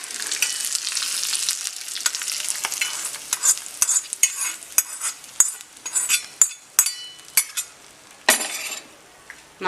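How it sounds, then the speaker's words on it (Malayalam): Spoon stirring a spiced mixture for Kerala-style taro (chembu) curry, with a soft sizzling hiss under close scraping and clinking against the pan, irregular strokes fading into a few sharp taps at the end. "ഇതെല്ലാം നന്നായിട്ട് ഇളക്കി ഇത് നമുക്കിനി കറിയിലേക്ക് ഒഴിച്ചു കൊടുക്കാം"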